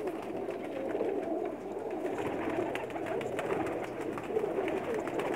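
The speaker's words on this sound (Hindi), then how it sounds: "सब के सब बाजी वाले कबूतर हैं" Racing pigeons coo steadily on a rooftop loft in a continuous, moderately loud mass of soft murmuring calls with no clear pauses, overlapping from many birds at close range.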